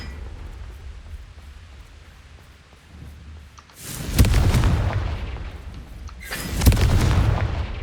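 The Confringo blasting spell in the Hogwarts Legacy video game erupts in two loud, booming explosions a couple of seconds apart, each a heavy rumbling burst that lingers before fading, following a quieter stretch of game ambience.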